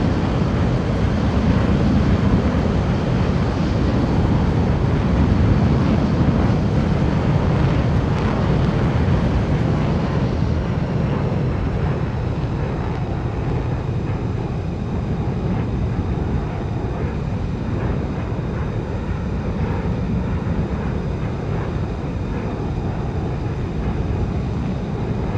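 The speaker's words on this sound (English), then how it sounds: "This is called landing on the active runway." Cockpit of an F-15 landing on the active runway on a flight from Big Rapids to Traverse City: a loud, constant roar of engine and wind throughout, easing slightly in tone partway through, with no talk.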